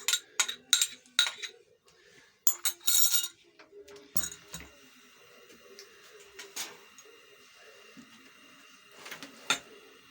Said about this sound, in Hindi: अभी ये चिकन भी इसके अंदर ऐड कर देते हैं।